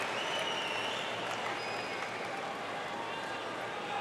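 A large tennis crowd at a US Open quarterfinal between Rafael Nadal and Dominic Thiem applauds in a steady, dense roar of clapping heard from a distance, continuous throughout.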